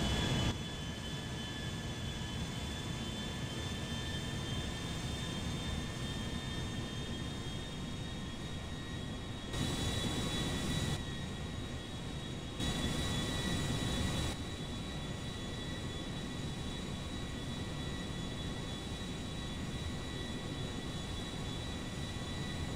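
A Boeing 757 jet takes off in GTA 5. Its engines give a sustained loud roar with a steady high whine, constant and unbroken for over twenty seconds, with no talking.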